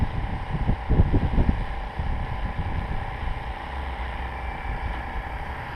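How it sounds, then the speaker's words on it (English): Wind gusts outdoors at an RC helicopter flying field, buffeting the microphone with low rumbling bursts that are strongest at first and then settle into a steadier rush. "The wind wants to get up underneath that tail end."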